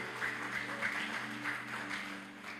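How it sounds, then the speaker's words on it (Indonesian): The congregation of JKI Alfa Omega church in Pemalang claps softly, faint and somewhat distant, over steady sustained instrumental tones humming underneath. "Saudara boleh gak beri tepuk tangan untuk saudara sendiri, gereja saudara"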